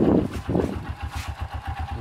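A motorcycle engine with a worn connecting rod runs with a rough, regular knocking beat, the pulses repeating steadily at close range over the idling engine.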